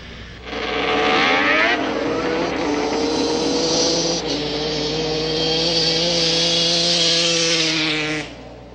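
A motorcycle launches in a drag race on a frozen lake at Webster Lake, New Hampshire, in 2002. Its engine roars loud and close, pitch climbing through rapid gear-like sweeps for about eight seconds before cutting off abruptly.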